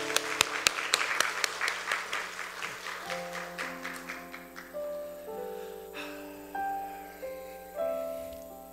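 An audience applauds a lecturer after a special talk, giving a few seconds of rhythmic claps that fade as sustained keyboard or organ chords come in and carry on alone.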